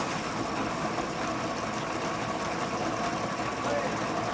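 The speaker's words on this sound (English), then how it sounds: "we have to grind very well." A mechanized roller grinds mud into fine powder at an Indian work site, giving a steady, dense mechanical rumble and clatter that runs unbroken at close range.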